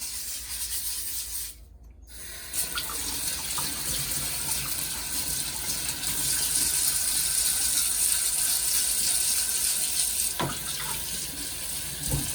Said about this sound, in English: I'm guessing we're roughing up the surface so that it becomes a bit more porous